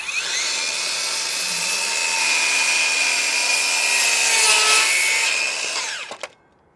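A RIDGID Octane cordless circular saw cuts through wood in one steady, loud pass lasting several seconds, its high whine holding even before the blade spins down and stops abruptly.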